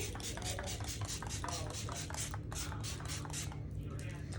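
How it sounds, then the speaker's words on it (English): A quick run of soft, hissing mist spritzes of makeup setting spray repeats in a steady rhythm, close up, over a low background hum. "So I'm gonna set with Anastasia Dewy setting spray."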